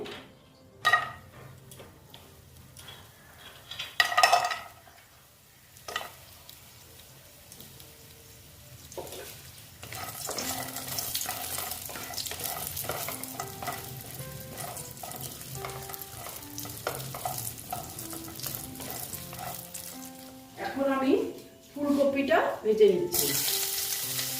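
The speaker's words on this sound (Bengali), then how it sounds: "বড়িটা ভেজে নেব তেল আছে এখানে" Bori lentil dumplings fry in a little oil in a pan, a steady sizzle building up midway with stirring clinks and scrapes, close and fairly quiet, while a voice speaks occasionally.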